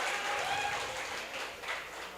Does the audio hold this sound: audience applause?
yes